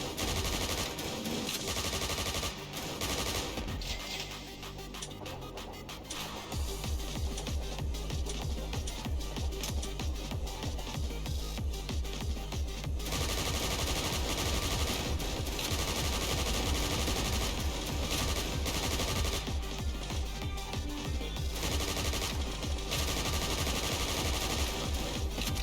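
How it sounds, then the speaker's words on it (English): Gunfire in the video game Sentinel Girls 2 rattles as rapid, continuous machine-gun bursts, loud and steady over a dense game soundtrack, with a brief lull early on before the fire resumes and continues without talk. "What's he shooting at?"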